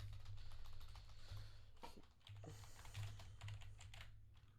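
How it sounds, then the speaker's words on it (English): Keystrokes patter quickly on a computer keyboard, quiet and close, in short irregular bursts with brief pauses and no talking. "Let's type it in."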